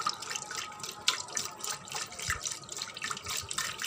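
Salt being stirred into a glass of water to dissolve it: soft, continuous swishing and sloshing with quick rhythmic strokes, close and fairly quiet.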